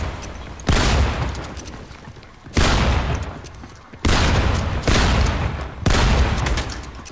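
Bombs going off in the Fortnite video game: four loud explosive blasts spaced about two seconds apart, each with a sharp onset fading into a rumbling tail.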